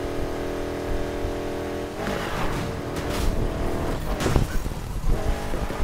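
A car tearing through city streets at very high speed in Need for Speed Heat, engine droning steadily at first, then roaring and revving with tire noise and whooshing passes, loud and close throughout.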